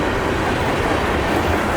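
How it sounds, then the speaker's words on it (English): An eastbound mixed freight manifest train passes close by Germantown MARC station in Maryland, its steady, loud rumble and rolling wheel noise filling the air without a break. "this is an eastbound mixed freighter train, manifest train"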